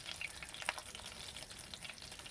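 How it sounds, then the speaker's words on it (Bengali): Dry red chillies and black cumin seeds fry in hot oil as a tempering for a tangra fish curry, giving a faint, soft, continuous crackle with no voices. "লঙ্কাটাকে ভালো করে আমি ভেজে নিচ্ছি"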